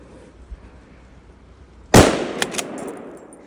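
A single loud, sharp rifle shot cracks out during a deer hunt in snowy New Hampshire woods, a sudden burst followed by a brief ringing decay over quiet outdoor background.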